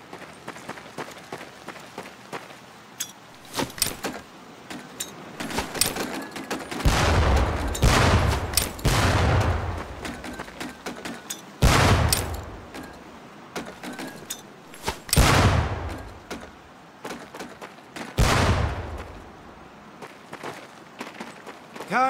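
Training grenades in Medal of Honor: Pacific Assault thrown and going off, several loud booming bursts a few seconds apart over clattering footsteps and background game noise.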